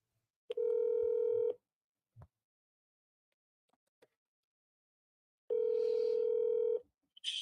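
A phone line gives two long, steady dial tones about a second each with a short click between them, clean and close in an otherwise quiet room.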